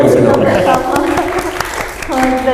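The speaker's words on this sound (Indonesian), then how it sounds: "Tepuk tangan buat BFC dong." An audience claps for BFC at the soft launch of the BFI Awards 2022 film event in Bandung, with quick scattered claps under a loud talking voice throughout.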